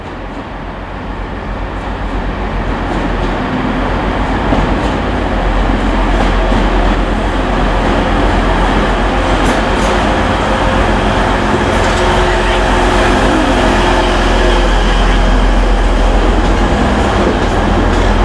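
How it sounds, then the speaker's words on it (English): A passenger train to Newcastle in North East England rumbles steadily and loudly, wheels clattering on the rails as the noise builds and holds throughout. "Here's my train up to Newcastle."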